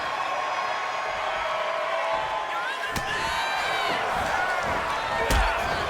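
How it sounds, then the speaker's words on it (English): Power slam by a wrestler in the WWE 2K video game, a sharp slam impact near the middle and another toward the end over steady crowd noise and arena ambience. "Beastman catches Nakamura and just power slams"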